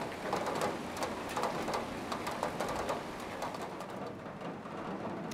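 Steady rain ambience for a western desert town game level, dense patter of drops falling evenly throughout, with occasional brighter splashes and a soft low rumble beneath, no voices.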